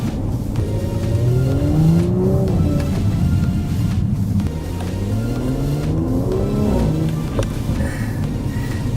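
A 2019 Audi RS5 accelerating under light throttle, its engine note climbing steadily in pitch through the gear, close and loud with a continuous rumble.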